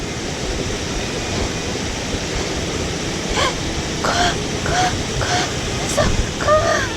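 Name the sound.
waterfall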